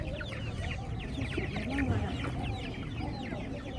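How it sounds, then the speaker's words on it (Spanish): Chicks cluck and chatter at a stall in a busy, noisy market day in Tlaxiaco, Oaxaca, with faint voices and market bustle mixed in around them. "es un puesto ahí donde están vendiendo pollitos"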